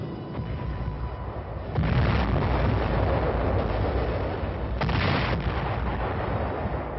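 Artillery fire and explosions roar through the opening stages of an amphibious assault, a dense continuous rumble that swells louder after a couple of seconds and stays heavy, with no speech.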